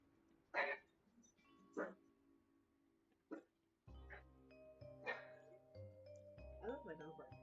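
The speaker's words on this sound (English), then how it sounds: "I love my dog barking." A dog gives several short, sharp barks spaced through a quiet room, then music starts underneath and a few more yips come through near the end.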